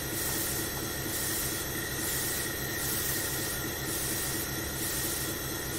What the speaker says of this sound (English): I will apply properly the train brake.